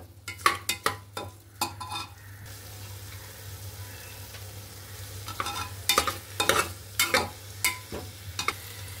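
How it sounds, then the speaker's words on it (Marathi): Baby khichdi of rice and lentils stirred in a pot: bursts of quick, close scraping and sloshing strokes, a quieter pause in the middle, then another run of stirring, with no talking. "चांगलं सगळं हलवून घेते।"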